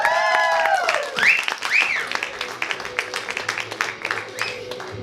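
An arena crowd at a comedy show applauds steadily for a comedian, dense clapping with a few whistles and cheers rising early on, loud and close, with no talking over it.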